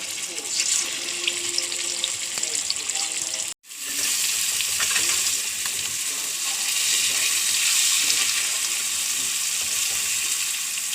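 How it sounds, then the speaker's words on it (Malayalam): Fish frying in a clay pot with oil, a steady broadband sizzle that runs close and loud with a brief dropout near the start, then continues evenly. "ചട്ടിയിൽ തന്നെ മീൻ വറുക്കാടുണ്ട്."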